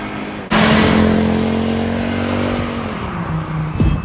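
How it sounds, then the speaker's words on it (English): An Audi 200 with a five-cylinder turbocharged engine roars loudly as it accelerates hard from inside the car, a sustained engine note that rises and then eases off near the end. "so I can feel that lovely five-cylinder turbocharged engine"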